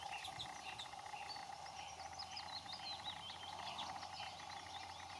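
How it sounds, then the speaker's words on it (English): Great tit calling in an Irish bog, faint repeated chirps and twittering high over a low steady background hum, with insects buzzing softly. "And this is the great tit"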